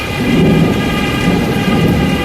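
Heavy rain pours with a deep thunder rumble, loud and continuous across the whole short stretch, with no voices.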